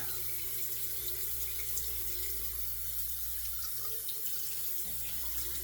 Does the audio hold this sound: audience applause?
no